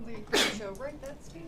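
A single sharp sneeze bursts out in a lecture hall during a calculus class, loud and brief, with people talking before and after it.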